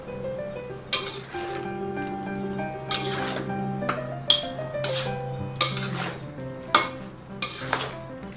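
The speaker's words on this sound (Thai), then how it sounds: "แล้วผัดต่อสักครู่นะครับ" Vegetables and pork ribs are stir-fried in a pot for a pork rib chap chai soup, with a spatula scraping and clinking against the metal in irregular strokes over a soft background sizzle. No one speaks.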